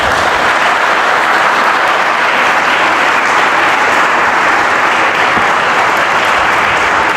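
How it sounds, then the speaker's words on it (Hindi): An audience applauds an honoured student at a school award ceremony at MG Inter College, producing a steady, dense roar of clapping that holds loud and even throughout, with no voices over it. "इसके लिए ताली बजाइए"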